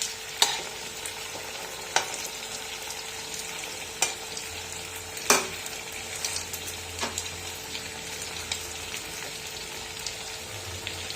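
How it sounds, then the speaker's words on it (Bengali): Egg chops frying in hot oil give a steady, soft sizzle throughout, with a few sharp clicks and taps of a utensil against the pan spaced every second or two; no voices. "চপগুলো আমি লাল লাল করে ভেজে নেব।"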